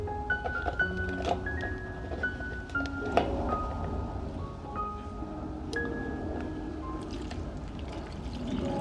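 Water is poured into an orchid container, giving a scattered run of small splashes, trickles and bright gurgling tones over a steady low background, fairly close, with no speech.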